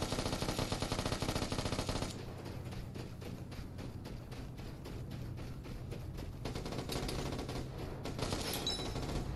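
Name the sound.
heavy gunfire in the video game Vigor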